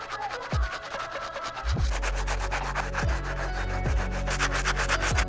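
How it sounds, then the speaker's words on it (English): A wet towel rubs and buffs scuffs off sneaker midsoles in brisk, repeated strokes, a close, steady scrubbing sound with soft thumps at a regular rhythm. "We're gonna wet the towel and buff it out."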